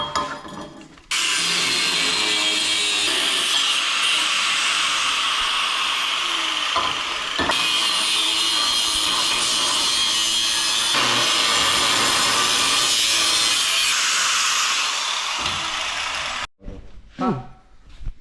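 Steady broadband sawing rasp as part of a tube front is cut off for an A31 Cefiro build, running continuously for about fifteen seconds before stopping, followed by brief quieter clatter.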